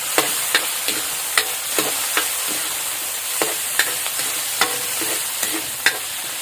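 Tomatoes frying in a pan, a steady bright sizzle with repeated sharp scrapes and clinks as they are stirred at an uneven rhythm, close up with no voices.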